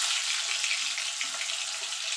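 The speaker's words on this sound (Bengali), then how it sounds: "আমি এই তেলে আলুগুলো ভেজে নেব। আমি এখানে আলু দিচ্ছি" Potatoes frying in hot oil for a vegetarian soybean muitha recipe, giving a steady, even hiss of sizzling that runs unbroken throughout at moderate loudness, with no talking.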